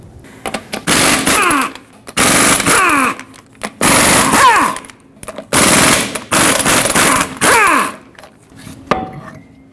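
A power tool driving a 21 mm socket loosens the eight lug nuts on a 2011-2016 Ford F-350 wheel, loud close rattling bursts of hammering repeated about six times with short pauses between them.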